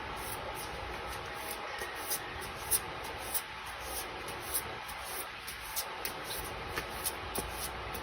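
A deck of tarot cards being shuffled during a card reading, soft papery rustles and occasional light slaps repeating at an uneven rhythm, faint and close with no talking.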